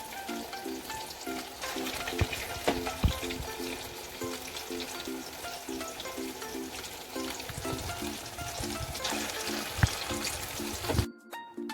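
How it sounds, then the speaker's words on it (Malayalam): Prawn vada frying in hot oil, a steady, busy sizzle with crackling pops that runs continuously for the whole stretch, close and moderately loud, then cuts off abruptly at the end. "വടകൾ ഓരോന്നായി എണ്ണയിലേക്ക് ഇട്ട് കൊടുക്കുമ്പോൾ ഇടവിട്ടിട്ട് കൊടുക്കണം"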